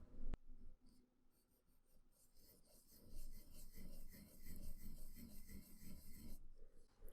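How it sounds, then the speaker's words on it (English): Pencil sketching a circle on paper for a three-point perspective drawing, a steady dry rasping scratch that runs almost continuously in quick strokes, close and fairly quiet with no talking. "we can go ahead and create our diamond and quickly sketch out our circle"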